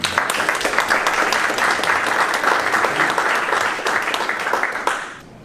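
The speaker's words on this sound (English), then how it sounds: "So please join me in giving Bryan a very warm welcome" An audience applauds warmly to welcome a speaker at a technology talk, dense steady clapping from a full room that tapers off near the end.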